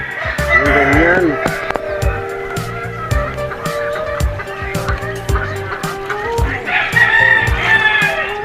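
Chickens cluck and crow close by, with loud, repeated squawks and a crow rising over the background, while other clattering noises and some talk come and go.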